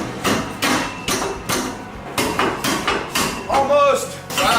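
Hammer repeatedly whacks a welded-together metal piece, about eight sharp, loud blows in a fairly even rhythm, with a voice briefly exclaiming near the end.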